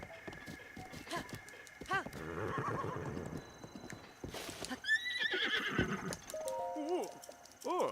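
Clip-clopping hooves and repeated whinnies and neighs from a horse in a no-hit video game run with horse minigames, the hoofbeats steady and the neighs loud and sharp, with game sounds mixed in.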